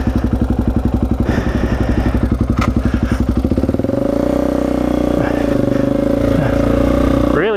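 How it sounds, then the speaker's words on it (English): A torquey Honda XR250R dirt bike single-cylinder engine kicks into life and thumps steadily while being ridden, loud and close, its rapid pulsing evening out into a sustained drone with a brief rev at the end. "Really enjoying riding this bike today."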